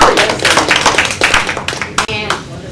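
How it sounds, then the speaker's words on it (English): A loud, dense round of audience clapping for an honored guest at a stage show, steady and close, with a voice briefly cutting through near the end. "Johnny Johnson a great big round of applause."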